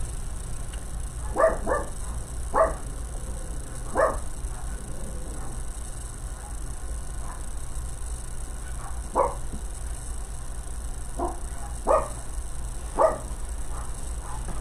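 A dog barks in scattered single and doubled woofs at a delivery arriving at a farmhouse, moderately distant, set against a steady low hum with no talking.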